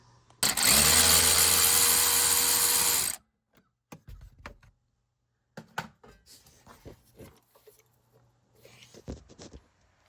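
A power tool whirs loudly for about three seconds on the front shock nuts of a Toyota Hiace, followed by sparse metallic clinks and ratcheting of hand tools.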